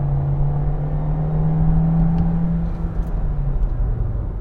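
A 2022 VW Jetta SE's 1.5-liter turbocharged engine drones steadily while driving, a continuous low rumble with a faint whir and mild rising revs, alone and fairly loud throughout.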